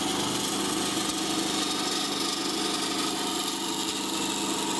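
Bandsaw with a new blade cutting out a pattern from scrap wood for a nesting box, a steady continuous whine and rasp running loud and unbroken throughout.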